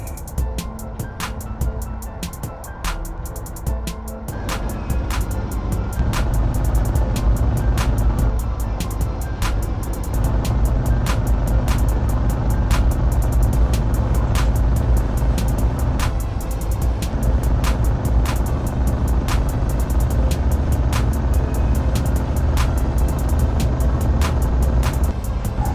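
Truck engine in Truckers of Europe 3 droning steadily as the vehicle climbs uphill, a continuous loud low rumble with regular sharp ticking clicks layered over it throughout.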